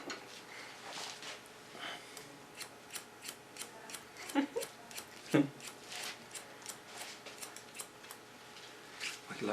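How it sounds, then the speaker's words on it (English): Scissors cut hair during a salon make-over cut, giving a string of quick, soft snips at an irregular rhythm over faint room background. "I think I start with cutting off some hair"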